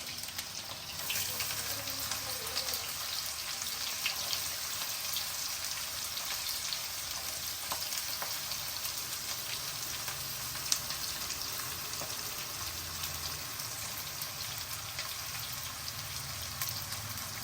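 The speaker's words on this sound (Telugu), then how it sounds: "ఇప్పుడు ఇవన్నీ వేగాలి" Garlic, onions, green chillies and curry leaves frying in oil in a pan for a flat bean stir-fry, giving a steady, even sizzle that stays close and constant throughout with no talking.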